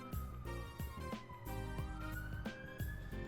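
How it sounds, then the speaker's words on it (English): An ambulance siren wails at a distance, its pitch slowly rising and falling over a busy background of clattering, tonal noise. "There is an ambulance going back that way."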